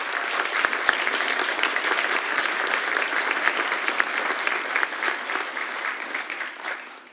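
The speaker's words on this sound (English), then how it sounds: "Would you give them a round of applause?" Sustained applause from a large audience at a high school vocal concert, dense clapping that stays steady for several seconds and tapers off slightly at the end.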